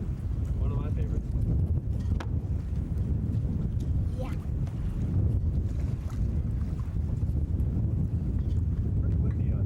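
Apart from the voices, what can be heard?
wind blowing on a boat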